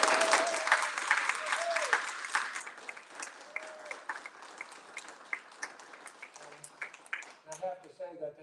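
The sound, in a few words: audience applause for poets at an award ceremony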